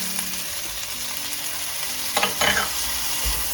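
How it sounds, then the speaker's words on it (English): Chopped ginger and garlic hit a pan of lightly browned onions and fry with a steady sizzle, then brief scraping stir strokes break in partway through, with no talking. "So once the onions are lightly browned like this, you can add in your chopped ginger and garlic."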